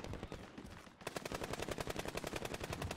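Gunfire in the video game Warzone, a close, loud burst of rapid automatic shots, quieter shooting at first and then a dense, evenly spaced stream of shots.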